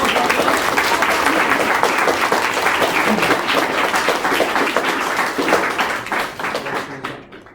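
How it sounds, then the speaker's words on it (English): An audience claps at a Year 6 school leavers presentation, dense sustained applause filling the room that gradually thins and fades out at the end. "Let's give her a round of applause."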